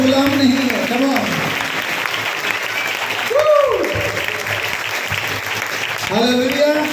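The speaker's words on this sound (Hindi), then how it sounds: "आज़ादी के साथ ताली बजाओ" Applause in a church anniversary celebration: a sustained burst of clapping from a congregation, loud and continuous throughout, with a voice speaking over it in places.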